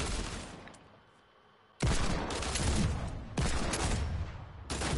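Gunfire in a shooter video game, loud bursts of rapid shots with a brief quieter fading gap before the shooting resumes in sustained, close volleys.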